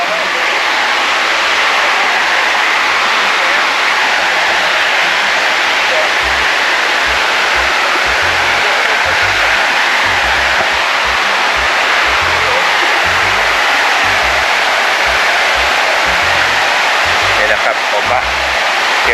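Haew Suwat Waterfall in Khao Yai roars as a loud, constant rush of water filling the whole clip, with someone talking faintly beneath it.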